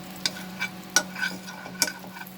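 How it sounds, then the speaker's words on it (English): Butter melting over medium heat in a pan, a quiet low sizzle broken by a few sharp clicks and scrapes as it is spread around. "I will put butter in the pan. Reduce the heat to medium and then spread the butter nicely in the pan."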